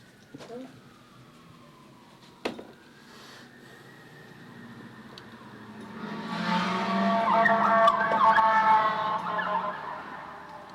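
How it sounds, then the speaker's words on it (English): An ambulance siren wails in the distance at first, then swells louder and nearer over the last few seconds, with traffic rumble underneath. "Ambulance."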